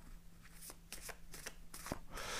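Tarot cards being shuffled to lay out a cross spread, a quiet run of soft papery riffles and slaps, faint and close, with no talking.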